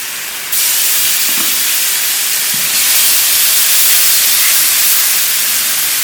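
Garlic dropped into two tablespoons of hot oil in a frying pan, a loud, steady sizzling hiss that jumps up at the start and holds, with faint clinks underneath.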